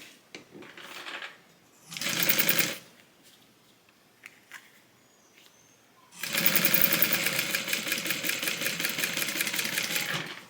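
Sewing machine stitching a pocket onto a tote bag, a short whirring burst followed by a pause with faint handling, then a long, steady, rapid mechanical run of stitching close by.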